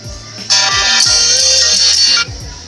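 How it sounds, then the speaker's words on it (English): A phone ringtone sounds loud and close, a bright electronic ring that holds steady for almost two seconds and then cuts off sharply, with faint background noise around it. "The phone is ringing."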